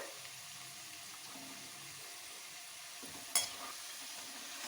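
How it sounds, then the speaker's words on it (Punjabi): Small potatoes frying in a pan for dum aloo, a soft continuous sizzle with light stirring and a brief clink near the end. "ਇੱਧਰ ਹੁਣ ਸਾਡੇ ਆਲੂ ਵੀ ਵਧੀਆ ਤਰ੍ਹਾਂ ਫਰਾਈ ਹੋ ਗਏ ਆ"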